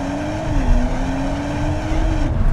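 A 2025 Audi S5 launches hard using launch control, its engine close and loud with a rising, straining note as the car accelerates, heard without talk.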